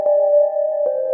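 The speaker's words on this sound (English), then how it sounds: "we can reverse engineer this and make cool sine wave leads all day long" A synthesizer sine wave lead in a melodic electronic music patch with reverb and chorus holds a pure, smooth sustained tone, loud and alone, with brief soft transitions at each note change.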